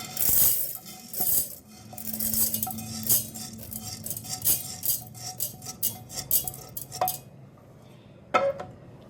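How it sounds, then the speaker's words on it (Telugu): Fried chana dal is poured into a mixer jar, making bursts of dry rattling and clinking of hard grains against metal, uneven and close, tapering to a few last clinks and a quiet stretch. "ఇప్పుడు ఇలా ఒక మిక్సర్ జార్ తీసుకుని దాంట్లో మనం ఫ్రై చేసి పెట్టుకున్న ఈ శనగపప్పుని యాడ్ చేసేసుకోండి"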